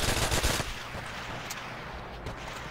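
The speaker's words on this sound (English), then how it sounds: "Can hear the sniper fire." Sniper rifle fire in the video game Call of Duty: World at War: a loud, sharp burst of shots at the start, followed by a few fainter, distant cracks and thuds in game ambience.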